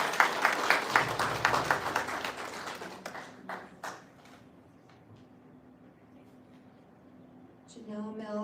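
Audience applause at a college Ute language recognition ceremony, a burst of clapping for about three seconds that thins into a few scattered claps, then quiet room tone before a voice resumes at the end.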